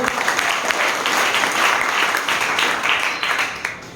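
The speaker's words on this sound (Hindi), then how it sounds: "इस शख्स को एक जोरदार ताली होना चाहिए" Sustained, dense applause from an audience at a Rising Leader summit program in Bhagalpur, steady and fairly loud throughout with no one speaking over it.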